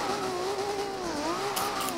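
Game drift car engine in Forza Horizon 2, a steady loud revving drone with a wavering pitch that rises and dips continuously, close and alone, with a brief brighter hiss near the end.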